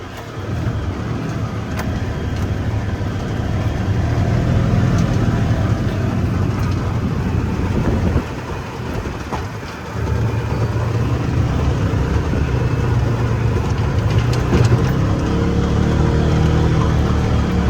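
A Polaris Ranger UTV runs at high speed with its turf mode deleted, giving a loud continuous engine and driving roar that dips briefly midway before resuming at full strength.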